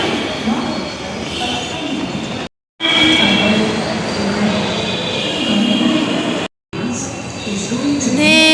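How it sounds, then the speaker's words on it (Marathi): A metro train rumbles and clatters along the rails, loud and continuous, with brief cuts and a faint high squeal near the end. "आम्ही मेट्रो पकडायला चाललो आहे"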